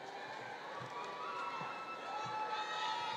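An audience at a high school commencement cheers for the graduates, a sustained distant crowd roar with scattered shouts and whoops building slightly toward the end.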